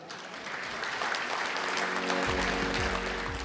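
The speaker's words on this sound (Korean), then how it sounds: "부산광역시 불교연합회 회장 보은 스님을 큰 박수로 모시겠습니다." Applause from the gathering at the 2023 Busan Buddhist New Year ceremony, a steady moderate clatter of many hands that swells slightly, with a low sustained hum entering partway through.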